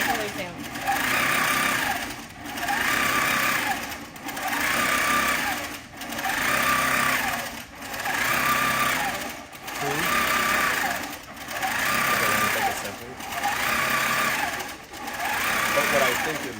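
A long arm quilting sewing machine at a quilting demo stitches in steady rhythmic bursts of fast motor whir, pausing briefly about every two seconds, loud and close, with talk faintly underneath.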